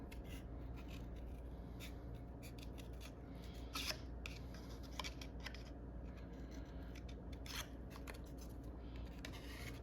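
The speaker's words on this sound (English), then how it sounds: "So all you're gonna do is just cut around it as close as you can." Scissors snip close around the edge of a photo cutout for a flower shop layout, giving faint, quiet cuts scattered through a steady low background hum with no talking.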